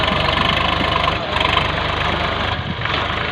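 A VST Shakti tractor engine running on a farm in Ramayampet, Medak, a close, loud, steady diesel chug with rapid knocking pulses and slight dips in level.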